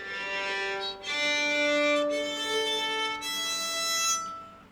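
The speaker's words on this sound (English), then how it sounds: "lane 1, right beside the bridge, is another special technique place called ponticello" Bowed string instrument played sul ponticello with the bow right beside the bridge, giving sustained, soft, scratchy metallic tones across three long strokes with brief gaps between them, heard alone.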